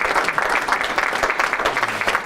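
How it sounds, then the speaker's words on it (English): An audience claps in a dense, sustained patter of applause, steady and fairly loud throughout with no voices standing out. "Give him a big round of applause as he goes back."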